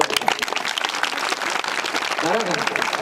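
Audience applause at a comedy kirtan, loud and sustained for about three seconds, dense crowd clapping with a brief voice rising through it near the end.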